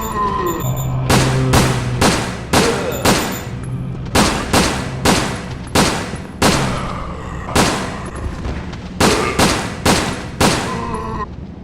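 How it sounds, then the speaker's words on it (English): Handgun shots fired at zombies in Resident Evil: Dead Aim, a string of about a dozen loud, sharp reports in irregular bursts, each with a short echoing tail over a low game ambience. "let's go ahead and test the regular handgun on a zombie"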